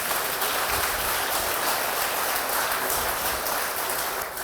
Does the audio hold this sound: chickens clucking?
no